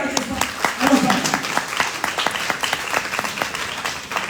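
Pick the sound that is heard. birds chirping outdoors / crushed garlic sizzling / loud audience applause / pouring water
loud audience applause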